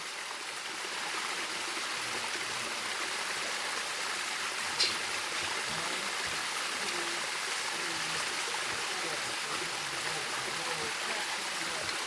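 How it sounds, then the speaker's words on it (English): Water rushes steadily over rocks in a continuous, even roar, with a faint brief click partway through. "Beautiful sound of the waterfall flowing"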